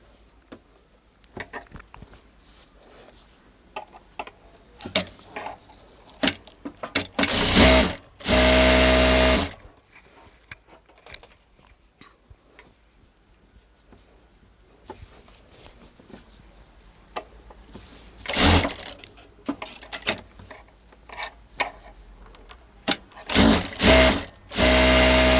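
Domestic sewing machine running short stitching bursts through scrap cloth for a blouse, a few loud whirring runs spaced apart with quiet handling noise between.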